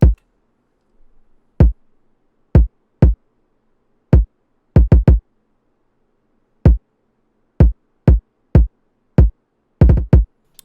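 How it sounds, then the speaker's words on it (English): Deep, punchy kick drum thumps in a repeating beat pattern, loud and dry, with some quick double hits and nothing else around them. "Then we have the country kick,"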